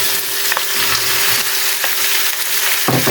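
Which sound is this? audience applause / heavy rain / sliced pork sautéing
sliced pork sautéing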